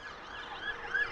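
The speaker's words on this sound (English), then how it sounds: "there's our traditional lights and sirens" An emergency vehicle siren wailing at Heathrow Airport, a steady, moderately distant tone with a rising sweep near the end, heard alone without speech.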